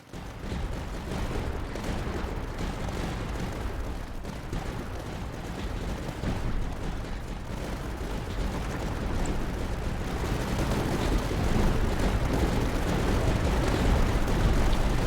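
Mortar shells bombarding targets in the tower-defense strategy game Tower Dominion, with continuous rumbling blasts and crackling gunfire that build in density and loudness over time and no talk.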